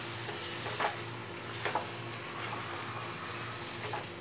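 Chicken frying with spices for Bengali-style chicken kosha, a steady close sizzle in the pan broken by several scraping stirs of a spatula at irregular intervals, with no one talking.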